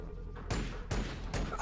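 Gunfire in the Warhammer 40k Battlesector game sounds as three quick, faint, distant bursts of shots over a quiet background.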